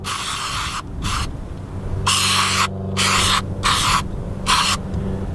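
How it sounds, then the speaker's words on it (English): Throttle body cleaner hisses from an aerosol can onto the throttle body of a 2007 Chevy Trailblazer in about six sharp bursts of varying length, loud and close, with a low engine hum running underneath. "just spray it down with some throttle body cleaner"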